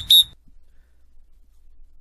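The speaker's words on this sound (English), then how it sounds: "two short, rapid blasts indicates the call for a lead jammer" A roller derby referee's whistle gives a quick, shrill, loud burst of two short, rapid blasts signalling the lead jammer call, followed by near silence.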